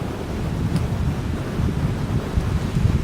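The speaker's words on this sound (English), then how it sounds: "Here comes a gust." A gust of wind during a blizzard, a steady broad roaring rush buffeting close to the microphone for a few seconds.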